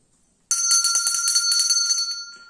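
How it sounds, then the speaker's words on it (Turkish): An electric bell rings loudly and continuously after a quiet moment, a bright metallic trill that rattles on for about two seconds before fading slightly. "Duydunuz zilin sesini."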